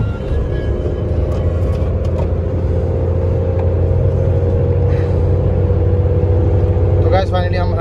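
An Alto 800 hatchback accelerates hard toward 100 km/h, its small engine droning steadily with loud road and wind rumble inside the cabin, while a person talks over it.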